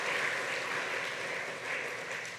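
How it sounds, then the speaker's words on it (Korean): Church congregation applauding in welcome during a Sunday worship service, a soft, steady wash of clapping from across the room that continues evenly before tapering slightly. "우리 박수로 환영합니다."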